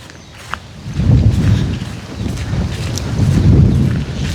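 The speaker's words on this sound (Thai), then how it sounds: "ลมหนาว" Cold wind blows outdoors in low, rumbling gusts that buffet the microphone, swelling and easing steadily with no one talking.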